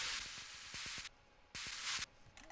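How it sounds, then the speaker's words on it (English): Bursts of bright hissing white noise effect in an electronic dance track drop switch on and off abruptly, alternating with a punchy beat of low thumps underneath. "Of course, some white noise"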